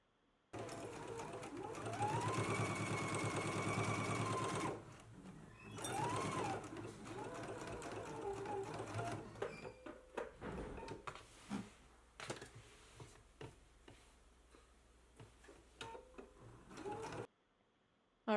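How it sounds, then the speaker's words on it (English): A sewing machine edge stitches and top stitches the side and lower edges of a pocket: a steady close run of stitching, then stop-start bursts and ticking of the mechanism. "we are going to be doing an edge stitch and a top stitch along the side and lower edges of the pocket"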